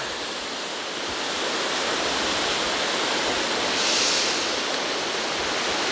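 Hraunfossar waterfall pouring out through lava rock in Iceland, a loud, continuous broadband rush of water with a slight swell partway through and no talking.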